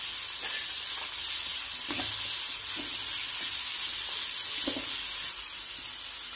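Tomato, mint and tamarind sautéing in a pan, a steady close sizzle with occasional scraping stirs and soft knocks, no talking.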